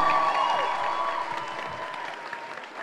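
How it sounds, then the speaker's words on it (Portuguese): An audience of young people at a gathering in Heliópolis, São Paulo, applauds for Mariana, a dense steady burst of clapping from many hands that eases off over three seconds. "Mais uma salva de palmas pra Mariana,"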